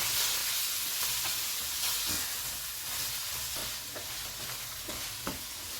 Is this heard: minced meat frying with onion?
yes